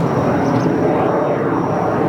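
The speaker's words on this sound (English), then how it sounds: "airplane going by." A fixed-wing airplane passes overhead outdoors beside a raised-bed garden, a steady broad engine roar that stays loud and even throughout the short stretch, with no talking over it.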